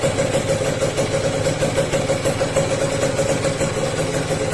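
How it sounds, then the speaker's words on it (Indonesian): A motorcycle engine idles steadily at close range, a continuous loud hum with a fine rhythmic pulse and no voices, while a digital tachometer clipped to the spark plug lead reads its RPM. "Sekarang kita nyalakan ya si mesinnya"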